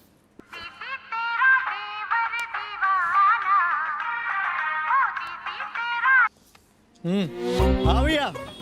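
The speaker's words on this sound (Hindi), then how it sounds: "रिंगटोन तो ठीक है ना?" A melodic phone ringtone plays for several seconds, a tuneful, sing-song jingle, then cuts off and a person speaks briefly.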